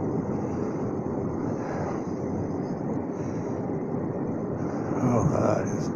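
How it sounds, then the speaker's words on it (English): Steady wind rumbles and buffets the microphone throughout, a continuous low roar outdoors in Brantford, Ontario in January, with a slight gust near the end. "But it's pretty windy out here."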